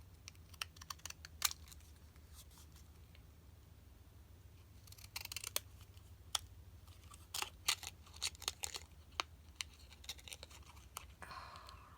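Sharp, irregular snipping clicks scattered through the clip over a steady low hum, some louder and close, others quicker and softer, with no talking.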